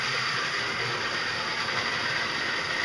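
Marx toy train made in Great Britain runs on 027 track, a steady close mechanical whir and rattle with a continuous hum throughout, no voices.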